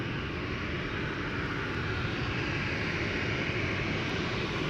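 A TUI airliner approaching Schiphol Airport, a steady broad engine roar that stays even and fairly distant throughout, with no voices.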